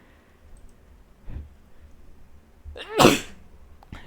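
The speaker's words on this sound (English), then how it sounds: "I had to sneeze there" A single sharp sneeze bursts out at close range after a few seconds of quiet room tone, with a soft faint click or breath before it.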